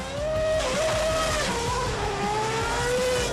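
Formula One cars driving through the streets of Milton Keynes, a loud continuous high engine whine with shifting pitch as the cars rev and accelerate past, close and dominant throughout.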